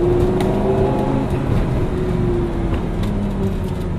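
A Lamborghini Gallardo engine drones steadily while driving at night, a continuous low hum with a faint rising tone and no talking.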